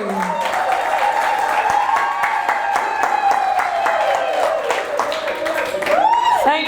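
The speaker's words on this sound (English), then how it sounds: "Come on, you're not clapping." Continuous audience clapping at a lecture event, moderately loud and steady, overlaid by a sustained tonal voice or music line running through most of it.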